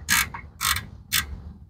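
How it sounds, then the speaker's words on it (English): Three raspy ratcheting strokes from a 15 mm wrench working a Chevy Volt oil drain plug under the car, evenly spaced and close, with short quiet gaps between them. "just grab the 15 millimeter wrench,"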